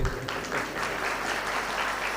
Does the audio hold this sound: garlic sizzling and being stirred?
no